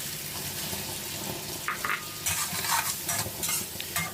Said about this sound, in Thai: ผัดต่ออีกสักเล็กน้อย